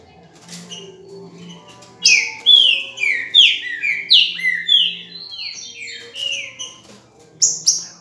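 A green-winged saltator (trinca-ferro) sings loud, clear whistled phrases in a rapid run of descending notes, close and dominant, after a quieter opening with faint background chirps.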